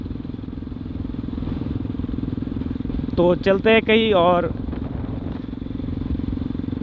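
An RS motorcycle engine drones steadily while the bike is ridden with a passenger on the back, and someone talks briefly over it.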